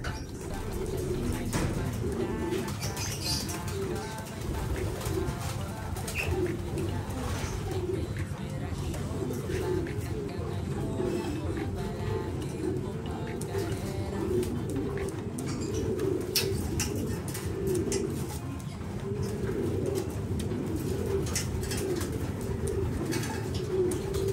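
Pigeons coo steadily inside their coop, a low, soft, continuous murmur of overlapping calls with faint rustling, heard at close range.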